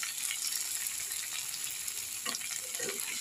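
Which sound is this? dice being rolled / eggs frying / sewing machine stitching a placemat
eggs frying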